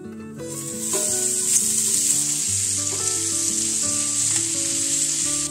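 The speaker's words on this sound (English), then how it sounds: "So now it's time to add our chopped mustard greens." Chopped mustard greens hit a hot pan with a loud, steady sizzle and hiss that runs continuously and close up, with music playing underneath.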